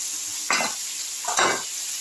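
Fried potatoes and pointed gourd are stirred into a sizzling cooked-down masala for a vegetarian curry: a constant hot sizzle with two scraping stirs of the spoon rising above it, close by.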